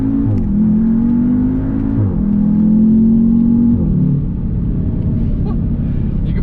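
An Audi TTS small sports car accelerates hard, its engine rumbling and rising in pitch through gear changes, loud and close, then settling into a steady cruising drone.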